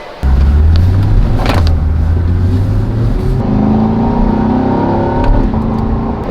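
Chevrolet C8 Corvette engine starting up and revving, then a steady drone as the car drives in sport mode, the pitch rising smoothly through gears; loud, close and continuous with no talk.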